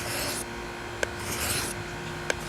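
A knife blade, Teflon coating being removed, rubs across a DMT 1200 grit diamond sharpening stone in close, steady rasping strokes, with two faint clicks marking stroke changes.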